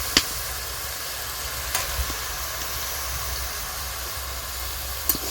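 Eggplant, potato and green tomato sizzle in a pan of hot oil with chilli and whole spices, a steady soft hiss broken by a few sharp ladle clicks, close by and without voices.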